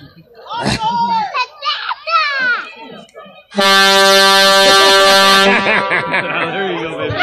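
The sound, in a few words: truck air horn honking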